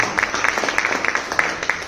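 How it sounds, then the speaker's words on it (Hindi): Audience applause at an MLM company event in India, a dense patter of many hands clapping at once, steady and moderately loud throughout the short stretch. "एक बार सचिन सर के जोरदार ताली होना चाहिए।"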